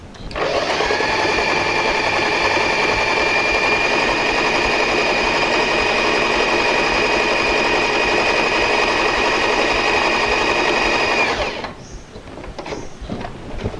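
An Usha Janome Prima sewing machine stitching a fine, short stitch runs loud and close in one steady whirring hum for about eleven seconds, then stops, leaving a few soft handling clicks.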